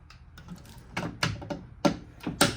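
Vintage Faraday fire alarm system components clicking, a handful of dry, uneven mechanical clicks and taps close by, growing a little sharper toward the end, with no voices.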